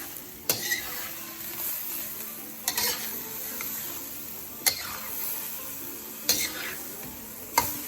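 Lomo saltado sizzles in a wok, with four or five sharp metallic clangs as the stir-fry is tossed, spaced a couple of seconds apart over a continuous close frying hiss.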